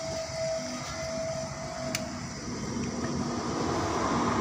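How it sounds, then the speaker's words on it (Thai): A genuine Japanese Yamabishi bench grinder motor, not yet bolted to its stand, runs with a smooth, constant drone and hum that stays steady and fairly loud throughout, with no voices. "มอเตอร์นิ่งมากนะครับ"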